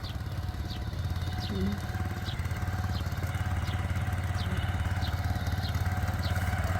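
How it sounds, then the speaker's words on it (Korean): A tractor plowing a field drones steadily and continuously at a moderate distance, with small chirping sounds repeating faintly over it. "트랙터 음. 밭 가는 소리예요."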